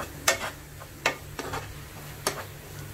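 Stuffing for mushrooms, with paneer about to go in, sautéing in a pan: soft sizzle with a few sharp scraping stir strokes, close and fairly quiet.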